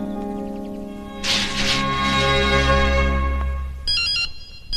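A cellular phone ringtone plays indoors at night: a loud, steady melodic tone with a short burst of brighter ringing partway through and a few sharp electronic beeps near the end.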